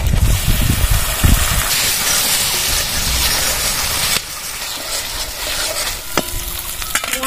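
Cumin, green chili and ginger-garlic paste frying in oil over fried onions for Bengali doi katla, a loud, dense sizzle with stirring that eases off partway through.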